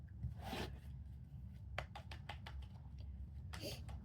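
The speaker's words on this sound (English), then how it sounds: "let me just put you down while I shuffle" Tarot cards being shuffled by hand, soft close riffling and brushing in a few quick bursts with brief pauses between, quiet against low background rumble.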